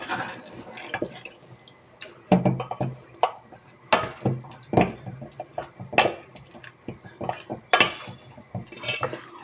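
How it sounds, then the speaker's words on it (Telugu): A spoon stirs bottle gourd curry with rice flour and milk in a metal pot, giving irregular scraping clinks and knocks against the pot, close and fairly loud, with faint liquid sloshing between strokes. "ఒకసారి కదిపేసుకుందాం మొత్తం కూడా."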